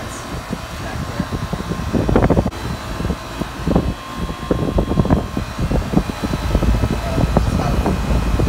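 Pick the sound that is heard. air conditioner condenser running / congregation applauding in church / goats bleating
air conditioner condenser running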